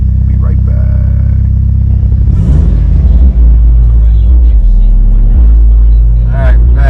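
Mitsubishi Evo 8 engine pulling while driving, a loud, continuous low rumble rising and falling with throttle, heard close up with someone talking over it.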